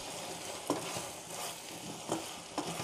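A spoon stirs Pallipalayam chicken with fresh coriander leaves in a hot pan, scraping and knocking three times over a steady sizzle, close and alone.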